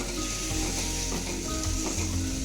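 Milk bubbles and hisses in a pot while being boiled for basundi, with a steady sizzling sound, broken by a few scraping stirs.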